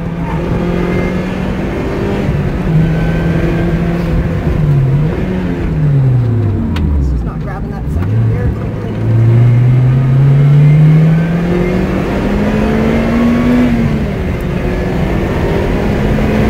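2011 Lotus Exige on a race track, its engine rising and falling through gear changes with a brief dip under braking before pulling hard again, loud and close, heard from inside the car.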